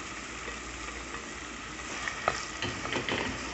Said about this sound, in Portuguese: Vou refogar essas folhas.